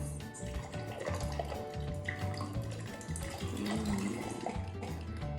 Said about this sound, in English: let's pour this right into our glass